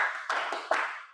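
A classroom group claps together in a quick rhythmic pattern as an ice breaker, a few sharp bursts of many hands at once, loud and close with no talking.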